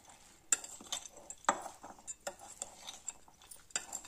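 A utensil clinks and scrapes against a pan while chow mein noodles are tossed with spice masala, giving irregular sharp taps between softer stirring rustles, close by and quiet.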